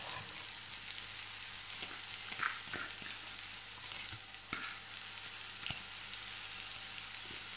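Onion, carrot and beans being fried with rice in a pan for fried rice give a continuous, even sizzle with occasional soft clicks and scrapes from stirring.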